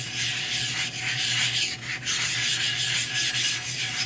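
A clipper blade hone machine runs with abrasive grit, making a steady, close gritty rubbing and rasping with faint rhythmic swells and no speech.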